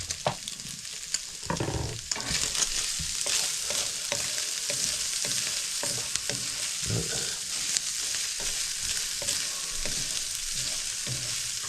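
Seasoned vegetables for chilli sizzle steadily in a hot pan, a constant bright frying hiss with occasional stirring clatters and scrapes throughout.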